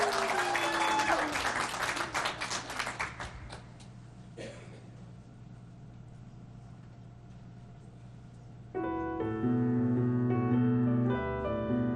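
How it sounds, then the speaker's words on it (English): Applause for a school choir at a Christmas telethon in Bedford, Nova Scotia: brisk clapping fades away over a few seconds, then a quiet stretch gives way to sustained musical tones. "A big round of applause for Sandy Lake Academy."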